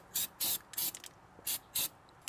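An aerosol spray can hisses in six short, sharp bursts of about a quarter second each, close and loud with brief pauses between, while painting parts of an LS-swapped Chevy S10 pickup.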